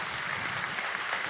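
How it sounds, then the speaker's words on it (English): Audience applause filling a hall, a dense steady clatter of clapping at moderate volume with no break. "Let's give them another round of applause"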